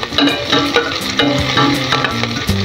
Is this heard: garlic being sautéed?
yes